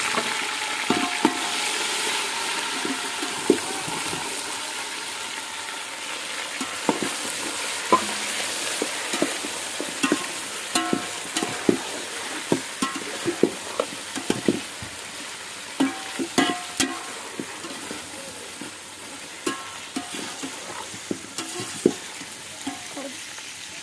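Beef boiled in garlic is stir-fried with onions in a pan, giving a steady loud sizzle with frequent scraping and clinking of the stirring utensil throughout.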